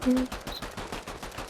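Submachine gun fire in the Fortnite video game, a rapid rattle of shots at a quick steady rhythm, moderately loud, with a voice speaking over it.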